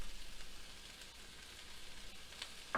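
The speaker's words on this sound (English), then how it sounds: "we're going to put in our green onion now" Green onion hits a hot pan, giving a soft, even sizzling hiss that stays faint and steady, ending with a brief louder scrape.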